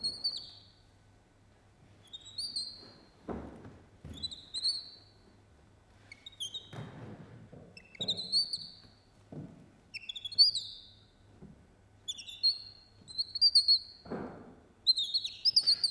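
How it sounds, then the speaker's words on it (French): Common nightingale singing alone in a quiet evening setting, a series of separate bright whistled phrases and rapid trills, each a few seconds long, repeated with short pauses, clear and fairly close over a faint low hum. "nous proposons d'écouter le chant du rossignol"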